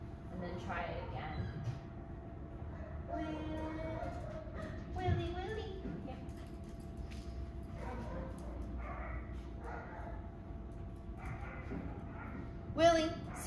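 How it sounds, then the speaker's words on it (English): Scattered dog barks and yips sound faintly in the background, mixed with low rumbling noise and a few other indistinct sounds. "Even with the barking in the background."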